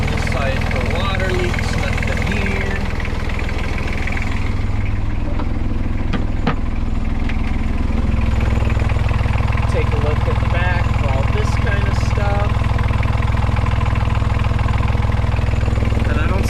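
A Yanmar 3YM30 marine diesel engine idles steadily close by after its annual service, a loud continuous low rumble with a constant throb that runs through the whole stretch.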